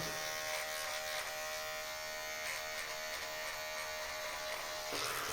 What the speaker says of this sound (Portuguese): Se nesse eu vou cortar até o cabelo, cara, com essa máquina